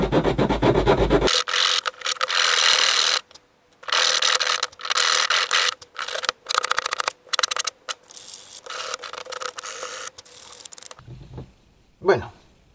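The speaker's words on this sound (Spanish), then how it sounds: "Así que vamos a continuar lijando" Bursts of rough, scratchy rubbing as sandpaper is worked over a carved wooden door stop, in repeated strokes separated by short pauses, close and fairly loud.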